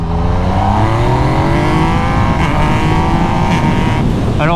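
Yamaha MT-09 motorcycle in sport mode accelerating hard in second gear from about 40 km/h, a loud, continuous engine note rising steadily in pitch with heavy wind rumble throughout.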